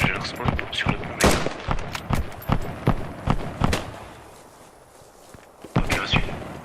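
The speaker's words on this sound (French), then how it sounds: "Bah il nous tire dessus, putain, avec sa mitrailleuse." Machine gun fire and rapid shots in the Second World War shooter game Post Scriptum, sharp cracks in quick irregular bursts, loud and close, then a brief lull before more firing.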